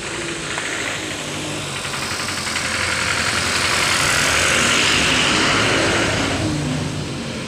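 A vehicle engine idles steadily nearby, a broad even rumble with a gentle swell and no changes in pitch, heard alone without talk.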